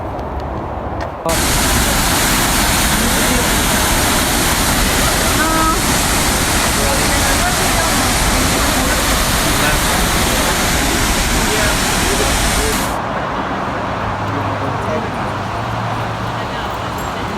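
Steady, roaring rush of Multnomah Falls in Oregon, loud and broadband, swelling after a moment and easing slightly near the end.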